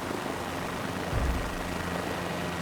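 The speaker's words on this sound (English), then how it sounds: "I'm trying to land a chopper" A helicopter being brought in to land in Microsoft Flight Simulator 2024 on PS5, its steady rotor and engine drone filling the short stretch with no talk.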